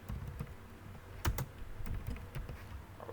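Keys on a computer keyboard clack in irregular bursts while someone writes HTML, with a few louder taps standing out among softer presses.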